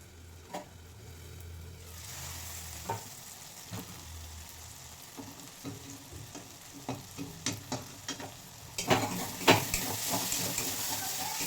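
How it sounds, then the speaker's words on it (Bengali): Greens, potato and eggplant frying in a pan, with a steady sizzle and scraping stir strokes that grow busier and louder toward the end, no talk. "শাক ভাজা এবং আলু বেগুন সব কিছু ভাজা হয়ে গেছে"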